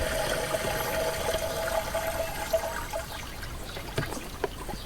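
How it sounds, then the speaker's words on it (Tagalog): Liquid poured into a knapsack sprayer on a durian farm: a steady trickle and splash of liquid running continuously, fairly close, with outdoor background noise. "Ilagay natin dito sa knapsack, sprayer natin."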